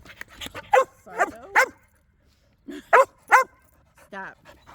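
A pet dog barks close by in quick bursts, a cluster of three sharp barks, then a short pause, then more barks ending in a whiny yip.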